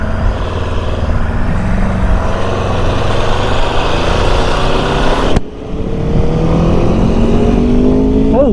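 An Aprilia RSV4 Factory 1100 sport motorcycle accelerating hard, its loud engine wail rising steadily, cut by a brief quick-shifter gap near the end before pulling again with rising pitch, heard up close from the rider.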